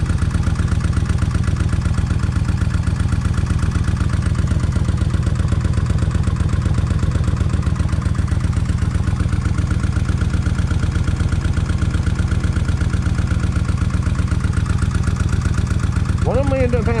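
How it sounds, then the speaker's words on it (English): A Kawasaki Vulcan 1600 motorcycle with a wet-plug problem idles steadily and close, a continuous low mechanical throb with a faint fuel pump whine underneath. "I can still hear that fuel pump a little bit"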